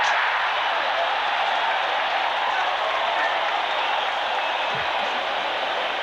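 Rain-soaked crowd at a 1995 Rugby World Cup semi-final, South Africa against France, roaring after a try: a broad, loud, sustained cheer and applause filling the stadium without letup.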